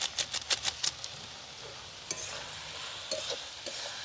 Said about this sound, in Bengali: এবার একটা চিকেন মশলাটা দিয়ে কষিয়ে নিচ্ছি।